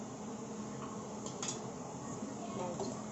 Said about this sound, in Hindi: चम्मच की मदद से इसको मिक्स करना है।